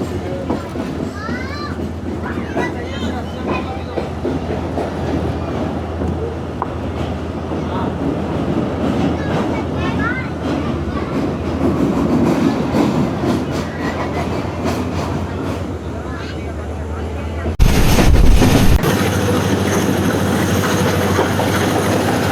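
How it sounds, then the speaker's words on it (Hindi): A Pak Business Express train rolls slowly over the tracks, with a steady rumbling clatter of wheels and rail joints heard up close and a louder burst near the end, while voices talk over it. "अब इसके बाद स्पीड पकड़नी चाहिए ना ट्रेन को"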